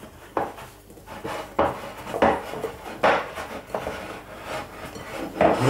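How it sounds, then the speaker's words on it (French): Brioche dough in a bowl is degassed with repeated soft thumps and rubbing scrapes against the bowl, about six irregular pushes, close and fairly quiet with no talk. "je vais dégazer ma pâte"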